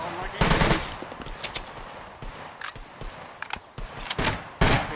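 Gunfire in the Scum video game, several loud close bursts of shots spread irregularly across the clip, with quieter scuffs and footsteps between them.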